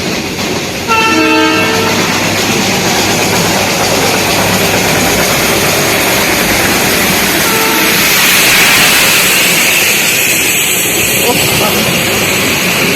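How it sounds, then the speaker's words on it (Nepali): A train horn sounds early on, then a loud approaching diesel engine of the Darjeeling Himalayan toy train roars and clatters nearby, with brief voices under the noise. "अब चाहिँ तपाईँहरूलाई हामी यसको टाउको देखाउने छौँ इन्जिन यहाँबाट आउँदैछ"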